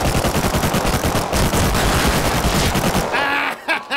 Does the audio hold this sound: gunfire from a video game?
yes